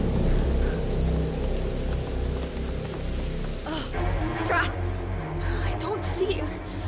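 A thunderstorm rolls through the video game A Plague Tale: Innocence, with heavy rain and low rumbling thunder under speech, plus a bright crackling burst of lightning partway through.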